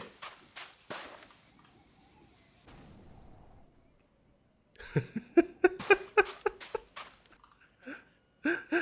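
Sharp, explosive bangs from a car being blown up in the Roblox game A Dusty Trip: a few cracks at first, then a quiet stretch, then a rapid cluster of loud blasts.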